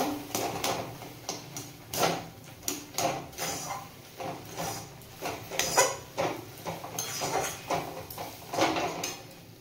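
A spoon scrapes and knocks rhythmically through a semolina and milk mixture in a pan, a steady run of close taps and swishes without pause.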